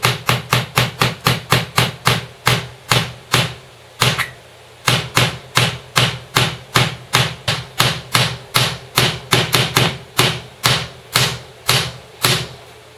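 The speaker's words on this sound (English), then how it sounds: "And then get your hammer." A hammer strikes a nail again and again while a scarecrow is being built, loud close blows in quick bursts with brief pauses, steady and sharp, with no voices.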